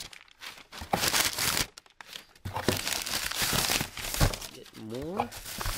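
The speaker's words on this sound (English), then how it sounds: "We have some paper here for packing." Packing paper crinkles and crumples in repeated close bursts as an eBay parcel is unboxed by hand. A person talks at points in between the rustling.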